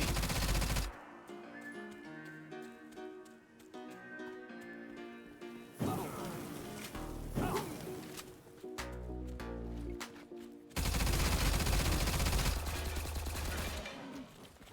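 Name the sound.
A-545 assault rifle gunfire in video game STALCRAFT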